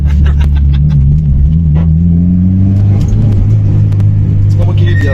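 A 450 hp Mitsubishi Lancer Evolution 9 engine revs up close and loud, its pitch climbing steadily over a deep rumble before holding high, with brief sharp noises over it.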